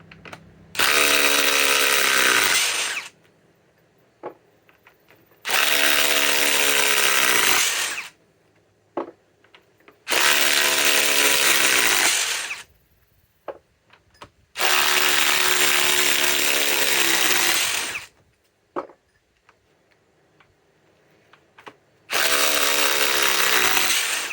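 Cordless power tool with a socket removing nuts, in five loud whirring bursts a few seconds each that wind down at the end. Quiet gaps with small clicks and clanks fall between the bursts, and nobody speaks.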